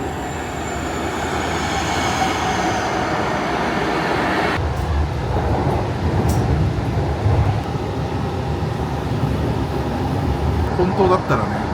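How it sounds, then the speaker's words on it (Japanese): A tram train rumbles and roars steadily nearby as it arrives at a Seattle station, with a sudden shift in the noise partway through and faint squeals near the end. "もうチケット買って上がったらすぐ列車来ました。"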